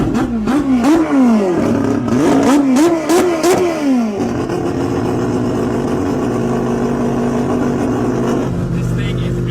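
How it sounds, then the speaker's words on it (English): A Mazda RX-7 four-rotor turbo rotary engine cranks, catches and revs sharply several times in quick bursts, then settles into a loud, steady, lumpy idle. "And then you just hit the starter and you're ready to go."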